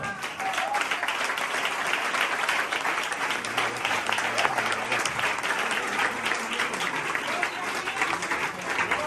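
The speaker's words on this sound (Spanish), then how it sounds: "Del aplauso al Rey" A church congregation and choir applaud for the King at a worship service, sustained dense clapping that stays loud and even throughout.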